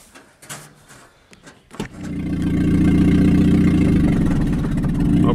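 A vehicle motor turns over with a sharp burst, then settles into a loud, steady running drone that holds close and even to the end, with scattered knocks and clatter just before it catches.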